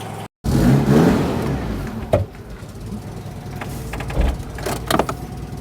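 A car engine idles and runs roughly with a noisy, rasping exhaust note from a blowing exhaust clamp, steady and close, with a few clunks and knocks; no talking.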